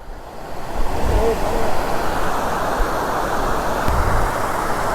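Water rushes at Anjuveedu waterfalls near Kodaikanal in a broad, steady roar that swells after the first second and holds close and loud, with faint voices now and then.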